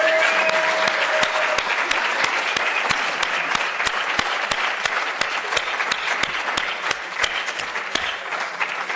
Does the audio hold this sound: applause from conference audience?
yes